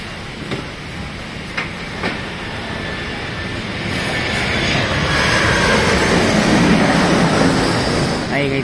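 An airplane flies overhead, its engine roar building into a broad, loud rumble over a few seconds, with a person talking faintly at the start.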